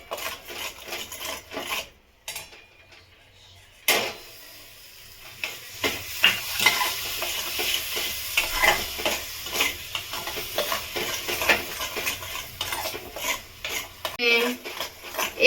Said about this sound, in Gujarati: હું અહીંયા એક વાટકી ગોળ જે લીધો છે એ આમાં નાખી દઈશ